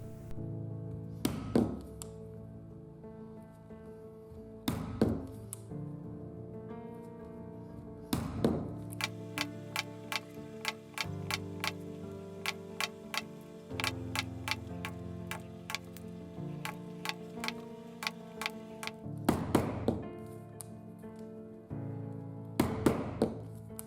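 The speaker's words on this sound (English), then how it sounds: "Use round chisels to punch the stitching holes directly into the leather." Round chisels are struck to punch stitching holes in leather for a handmade vase. A few sharp, loud knocks and lighter taps land at uneven intervals over background music.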